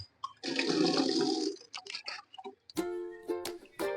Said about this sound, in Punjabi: ਹੁਣ ਅਸੀਂ ਪਾਉਣ ਲੱਗੇ ਆ ਬੂਟਿਆਂ ਨੂੰ ਪਾਣੀ